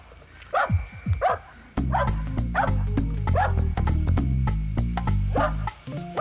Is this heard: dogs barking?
yes